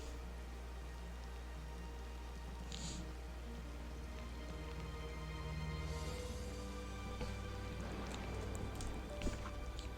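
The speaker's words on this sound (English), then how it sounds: "It happens to be raining in this picture" Steady rain falling in the video game Disney Dreamlight Valley, a constant even hiss throughout with a few faint soft ticks and taps over it, no voices.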